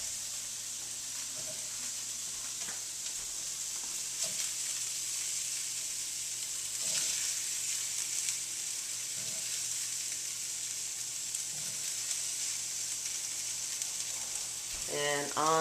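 Stuffed tomato filling sizzles and fries steadily in a pan on the stove, a continuous close hiss with occasional stirring clicks and no talking.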